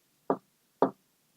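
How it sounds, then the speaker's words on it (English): Two sharp knocks on a door, spaced about half a second apart, crisp and close against near silence. "Someone knocked at the door."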